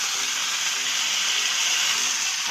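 Mustard seeds, cumin and curry leaves sizzle in hot oil in a pan, a continuous loud bright hiss with faint crackles running steadily throughout.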